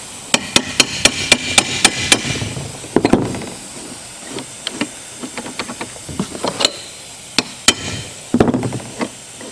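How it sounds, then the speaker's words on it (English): Sharp metallic hammer strikes drive roll pins into a collar on a tapered drill shaft, a rapid run of ringing blows followed by slower, scattered taps and a few harder hits, close and loud with no talking. "grab my roll pins. Really kind of has to be this way to put the roll pins in because of the taper to our shaft"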